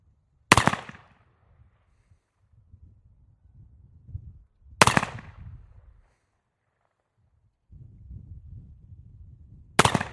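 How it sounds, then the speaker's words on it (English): Three loud, sharp shots from a silver Remington fired at a dueling tree target, spaced several seconds apart, each followed by a brief outdoor echo, with faint low rustling and handling noise in between. "We're going to shoot this Remington, beautiful silver."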